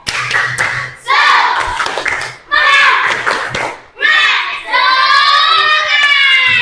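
Children in a classroom give a rhythmic spirit clap with loud chanting voices, repeated in several close bursts. The group ends on a long, drawn-out shout.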